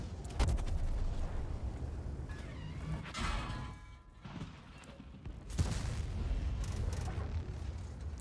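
Gunfire striking an armored tank in World of Tanks: several sharp impacts and booms at irregular intervals, with a brief metallic ringing after one hit, loud against a steady rumbling background.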